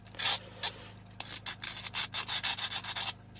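Fine 400 grit sandpaper rubs on the metal contacts of a VW Rabbit Mk1 pickup rear license lamp, a series of quick, rhythmic rasping strokes, close and clear, with short pauses between the first few passes and no talk.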